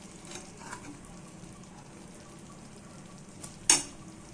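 Fish going into a pan of simmering kuzhambu gives a faint, steady low sizzle and bubbling, then a single brief sharp splash-like burst near the end.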